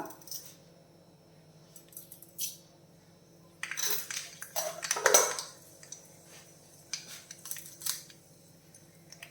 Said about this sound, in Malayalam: എണ്ണ ചൂടായിട്ടുണ്ട് ഒരു അര ടീസ്പൂൺ കടി ഇട്ട് കൊടുക്കാം